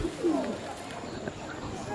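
Soft, low cooing from a red-necked female pigeon at a pigeon loft, faint and partly masked under steady background noise and rustle.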